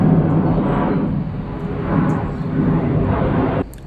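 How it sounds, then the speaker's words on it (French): An airplane flies overhead outdoors at a horse farm, a steady broad rumbling drone that rises and falls gently for several seconds before cutting off abruptly near the end. "il y a un avion en même temps"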